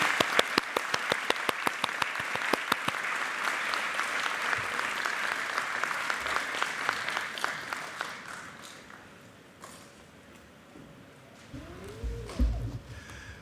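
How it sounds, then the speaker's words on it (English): Audience applause fills a graduation ceremony hall, dense and steady for about eight seconds before thinning into scattered claps and fading, with a brief low bump near the end. "Please give them a warm round of applause."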